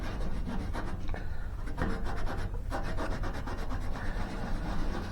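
An eraser scrubs rust off the metal of an old advertising cabinet with steady, rapid back-and-forth rubbing strokes, close and continuous with a dry, gritty texture, no voices.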